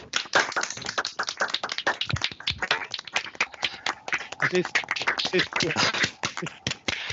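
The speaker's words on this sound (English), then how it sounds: "Perhaps we could close the session with a round of applause." Online session participants clap into their microphones to close a meeting, sharp irregular claps from many separate feeds overlapping unevenly at close range, with some voices talking underneath.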